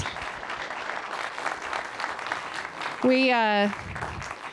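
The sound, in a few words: audience applause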